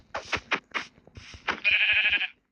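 Sheep bleats from the Minecraft video game: a string of short, close bleats followed by one longer, wavering bleat, heard alone.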